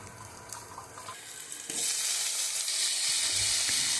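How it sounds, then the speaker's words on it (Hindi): Cut potatoes with the skin still on drop into hot oil in a pan with chili and onion and burst into a loud, steady sizzle after a quieter stretch of light stirring. "इसको ऐसे काट के भूनने के लिए डाल दिए हैं।"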